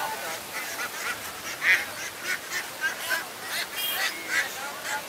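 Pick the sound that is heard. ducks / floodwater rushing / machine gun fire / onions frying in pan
ducks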